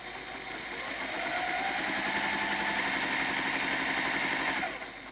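A sewing machine stitches quilt half-square triangles, a steady rapid mechanical whir and hum running close and continuous for several seconds before slowing to a stop.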